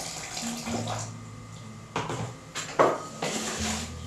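Water poured into a small bowl while mealie-meal dough is made, a soft trickle and splash with a few light clinks against the bowl, close and quiet.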